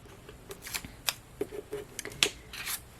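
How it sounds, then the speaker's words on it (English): Backing being peeled off adhesive strips for a shaker cake topper craft, heard as several short, crisp crackling rips and ticks spread across a few seconds, close and fairly quiet. "Peel off that backing as well."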